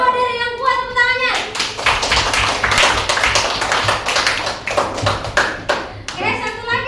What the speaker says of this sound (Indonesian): Oke, tepuk tangan buat Derek yang kuat, tepuk tangannya.